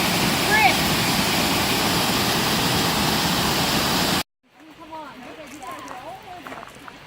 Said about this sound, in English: So we've made it to the falls.